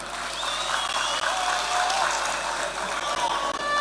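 An audience applauds steadily and loudly to welcome Musalia Mudavadi at a homecoming ceremony, the clapping a dense, continuous roar from start to end.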